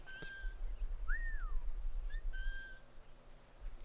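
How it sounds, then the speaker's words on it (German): A game character in Assassin's Creed 4: Black Flag whistles in two short tonal phrases, a steady note, a rising-and-falling swoop, then a brief chirp and another held note, over a low rumbling game ambience with no talk. "Jetzt kann ich erstmal gleich pfeifen."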